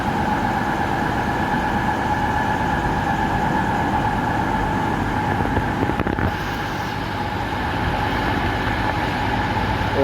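Steady rumble of a UK passenger train running on rails near Birmingham, a continuous low roar with rattling, constant in loudness throughout, no voices.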